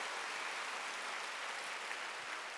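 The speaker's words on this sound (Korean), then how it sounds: "박수 하세요." A congregation at a Korean Sunday church service claps: a brief, even wash of faint, distant applause with no distinct individual claps or voices.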